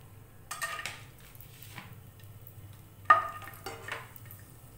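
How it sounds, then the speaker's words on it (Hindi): Cashews and raisins frying in hot oil in a pan for veg pulao, with a soft sizzle and a few sharp clinks and scrapes of a spoon stirring against the metal, quiet and close. "सबसे पहले मैं काजू और किशमिश को थोड़ा सा फ्राई कर लूँगी"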